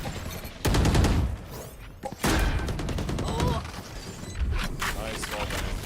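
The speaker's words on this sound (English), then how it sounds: "Nice wall bang." Gunfire in a tactical shooter match, rounds punched through a wall: sharp shots and clusters of rapid reports amid game effects, under continuous excited caster commentary.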